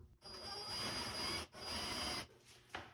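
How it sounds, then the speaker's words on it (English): A power drill bores through wood while a Hafele Blade Series bathroom vanity is being installed, giving two sustained, close grinding whirs split by a short pause, then a quieter tail-off. "Use my drill, line it up."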